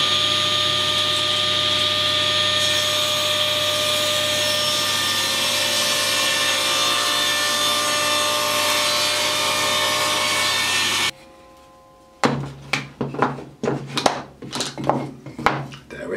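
A long stretch of steady sawing or grinding on a wooden block, then a pause, followed by rhythmic back-and-forth hand sawing strokes cutting a step into its end, close and loud.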